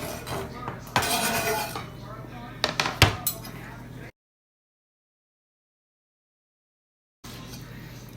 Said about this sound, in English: I'm gonna put this back in the pan